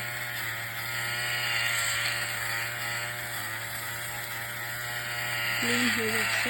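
A small handheld electric lint remover runs on fabric with a continuous buzzing motor whine and faint rubbing texture, close up, with a voice briefly heard near the end.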